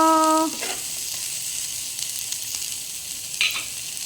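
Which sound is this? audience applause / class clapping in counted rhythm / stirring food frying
stirring food frying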